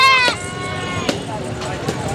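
Goats bleat at a livestock market in Karachi, with one loud, wavering bleat up close followed by a few fainter calls, under a voice and crowd chatter.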